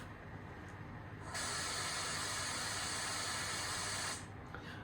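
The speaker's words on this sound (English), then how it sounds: "F9 is compressed air let off" OO gauge Class 66 model locomotive sound decoder playing a compressed air release: a sharp, steady hiss bursts on, holds for about three seconds, then stops over faint background noise.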